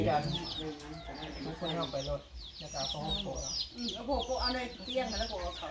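Chickens cluck continuously at a home where a meal is being cooked, with busy overlapping clucks and calls close by and people talking among them throughout.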